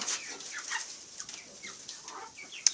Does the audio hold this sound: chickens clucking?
yes